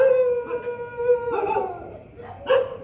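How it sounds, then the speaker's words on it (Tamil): Several dogs howl in long, overlapping wails, broken by a few short barks and yips at close range. "சுற்றி நாய் தான் இருக்கு."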